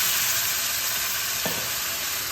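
Dry spices fry with taro in a pan, a steady close sizzle with soft stirring scrapes throughout and one brief clink of the spoon, no talking.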